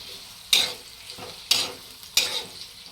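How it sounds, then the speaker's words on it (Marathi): Onion frying in hot oil while being stirred, with three distinct scraping stirs over a steady background sizzle, close and fairly loud. "तेल गरम झाले कांदा टाकून घेतला मी कांदा चांगला गुलाबी रंगाचा होईपर्यंत परतून घ्यायचा"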